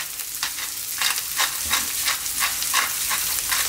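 Chicken chow mein stir-fries in a pan at maximum heat, a loud close sizzle broken by rhythmic scraping stirs roughly every half second.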